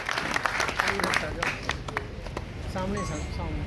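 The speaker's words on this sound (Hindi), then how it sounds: "जोरदार तालियों के साथ साथियों" Applause at a political party workers' meeting in Haryana, scattered sharp claps amid crowd noise, with a voice talking over it partway through.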